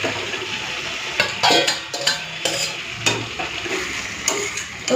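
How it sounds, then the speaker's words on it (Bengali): Pre-fried cauliflower and potato pieces drop into a spiced tomato masala and get stirred, giving uneven scraping and clattering bursts over a steady background sizzle, close and moderately loud with no voices. "চলুন এখন দিয়ে দিচ্ছি ভেজে রাখা ফুলকপি আর আলু"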